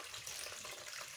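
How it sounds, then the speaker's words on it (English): Water runs steadily from a tap at a fish hatchery, a soft, even hiss that is faint and continuous with no talking over it. "I'm taking a sample of water from the hatchery tap"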